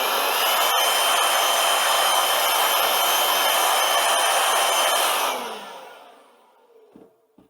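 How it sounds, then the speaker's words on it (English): An air blower runs steadily and loud, cleaning dust off a vehicle battery, then cuts off and winds down near the end, leaving a few faint knocks. "you could start with the blower"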